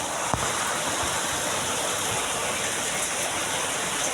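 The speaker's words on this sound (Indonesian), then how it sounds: "kenceng banget ini hujan" Heavy rain pours in a loud, steady hiss with a faint thump near the start, constant throughout and with no voices.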